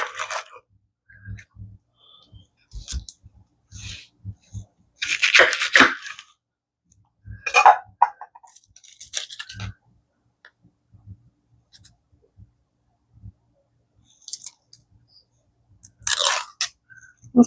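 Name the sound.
cutting up an onion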